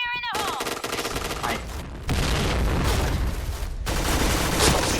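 The Pink Dragon gun in the shooter game Point Blank fires in loud, rapid automatic bursts, a continuous dense rattle of gunfire with a brief pause before it resumes even harder.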